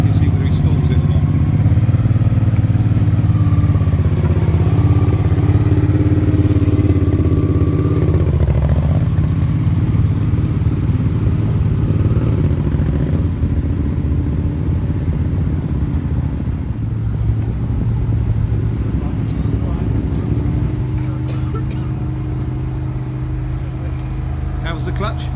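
A Honda motorcycle engine runs steadily during a clutch check after adjustment at a race meeting, a loud, close, continuous drone with shifting pitch as it revs and idles.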